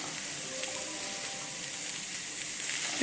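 Small shallots and sliced ginger sautéing in hot coconut oil in a pan, a steady, close, broad sizzle that holds evenly throughout, no voices.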